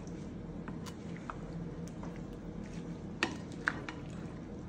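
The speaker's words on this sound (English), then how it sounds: "we're gonna give this a good mix" Pasta salad is tossed in a bowl with a soft, continuous wet squishing and stirring. A couple of sharper clicks from the utensil come late on, quiet and close with no talk.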